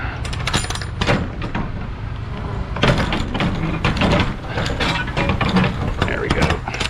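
A semi truck trailer door is worked shut at a Kellogg's loading site in Atlanta, giving a series of loud metallic clanks, rattles and latch knocks, close by, with some outdoor noise between them.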